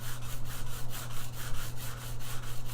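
A guitar's wooden top is rubbed with a 600 grit abrasive. The sanding makes short, rhythmic back-and-forth strokes, close and moderately loud, over a low steady hum, with no talking.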